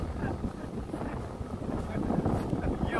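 Wind gusts roar steadily across the microphone outdoors at a mountain paragliding launch site, a loud rumbling buffet that swells toward the end.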